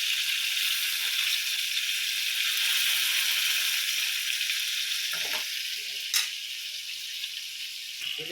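Three pieces of fish sizzle in an oiled pan, a steady bright hiss with a few clicks of the pan and turner as they are flipped, close and continuous with no talk.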